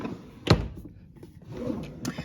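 A makeup storage drawer slides open with a single short thunk, followed by faint handling rustles in a quiet room.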